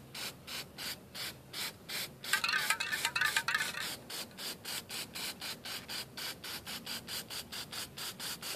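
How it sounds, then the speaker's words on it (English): A hissing aerosol spray bursts for about a second onto a Yamaha R6 headlight reflector amid a steady rhythm of repeated rubbing strokes, close and fairly quiet. "Hold the can about 6 to 10 inches away and spray. Spray right on the reflector."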